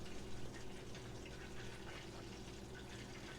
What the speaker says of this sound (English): Hear the frying.